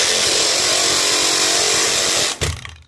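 A 5/8 stroke reciprocating saw fitted with a thin flexible blade cuts steadily with a loud, continuous buzzing rasp close by, then breaks through and stops abruptly near the end with a brief clatter.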